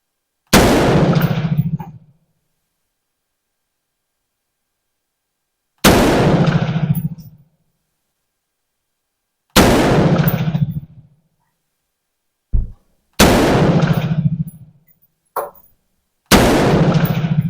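Five loud, sharp M4 rifle shots ring out one at a time at irregular intervals outdoors while a green laser sight is zeroed, each with a short decay and a couple of faint knocks between them.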